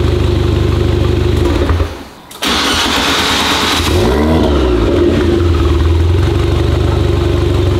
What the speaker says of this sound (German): Geil, wie man im Endro schon den Lader hört, ne? Beim Anmachen.